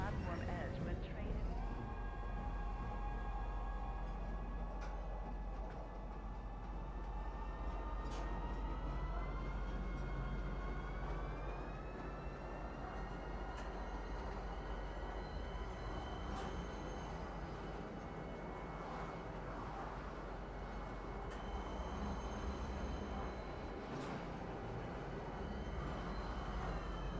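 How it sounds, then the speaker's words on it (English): A metro train pulls into a station in the Star Citizen video game, a steady rumbling drone with a slowly rising whine and an automated announcement voice over it, continuous for the whole span. "Now arriving, Metro Center. Please watch your step when disembarking the train."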